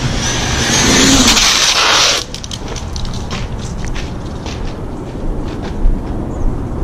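A 6S RC rock crawler styled as Max D monster truck runs at speed: a loud whining motor and tire roar for about two seconds, then rougher, lower rumbling with scattered crunches and clatters as it drives on.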